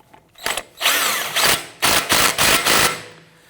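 A power tool, likely an impact wrench, drives down the front axle nut on a 2017-2020 Hyundai Elantra during a wheel bearing and hub job, sounding in several loud close bursts of whirring and rattling with short pauses between.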